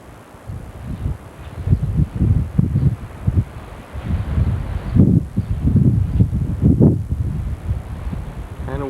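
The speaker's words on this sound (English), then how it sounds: "Kind of windy today." Gusty wind buffeting the microphone outdoors on a farm in spring near lilac blossoms, loud uneven rumbling surges that rise and fall throughout with no talking.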